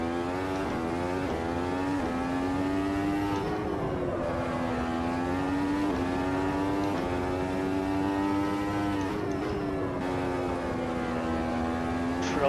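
Formula Ultimate open-wheel race car engine at Brands Hatch in a racing game, a loud high-revving whine that climbs and dips through gear changes and throttle lifts, with brief downshift blips, no talk.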